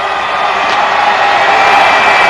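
A large New Year's Eve crowd in Times Square before the 1992 ball drop, a steady dense roar of cheering and whooping that swells slightly, loud and continuous with no break.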